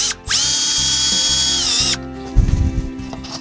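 A power drill drives a second screw into a soffit corbel connector, a steady loud whine lasting nearly two seconds, then rattling clicks and handling clatter as the bit stops, no talking.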